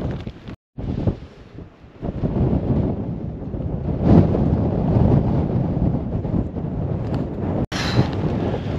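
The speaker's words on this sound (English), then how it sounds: "A little bit windy at the top." Strong wind buffets the microphone near the top of a mountain hike in the Lake District fells, a loud continuous roar with gusty swells and two brief dropouts, no voices heard.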